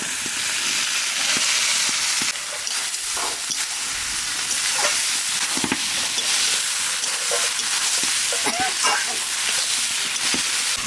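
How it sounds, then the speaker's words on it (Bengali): Soybean chunks frying with spices in a pan, a loud continuous sizzle and hiss with scattered crackles and the scrape of stirring, close up and without voices. "মশলার সাথে সোয়াবিনটা একটু ভেজে নিচ্ছি"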